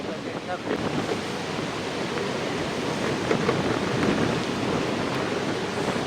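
Strong, continuous wind from Cyclone Ditwah in Jaffna roars and buffets the microphone with a steady, surging rush, loud and close, with no clear speech over it.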